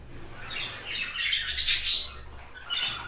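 A young mutation pet bird squawks and chirps in its cage with harsh, repeated calls at close range, the loudest burst mid-clip and a shorter call near the end, over a low steady background hum.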